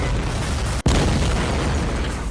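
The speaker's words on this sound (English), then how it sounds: "A Peter clone throws an Ernie clone back into the cloning machine, triggering a massive explosion" A massive cartoon explosion as a clone is thrown back into a cloning machine: a loud, dense roaring blast that fills the whole clip, broken by one brief cut partway through.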